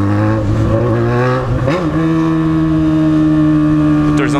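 A warm motorcycle engine runs steadily and loudly up close, its droning tone shifting in pitch partway through before settling back into an even hum.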